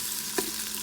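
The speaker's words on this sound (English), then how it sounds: "make these onions a little bit tender. You don't really need it to be burnt" Onions fry in a pan for mutton curry, giving a steady close sizzle with one soft stirring scrape partway through and no voices.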